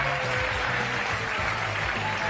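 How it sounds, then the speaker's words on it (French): Audience applause at a French stage show, a dense, steady wash of clapping that holds at even loudness throughout with no voices. "on applaudit Daniel"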